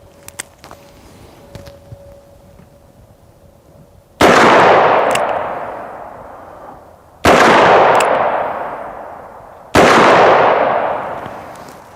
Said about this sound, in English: .44 Magnum.